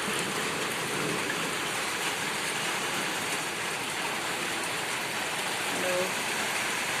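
Rain falls steadily on open ground, an even, unbroken hiss of drops at the same loudness throughout, with no distinct thunderclaps standing out.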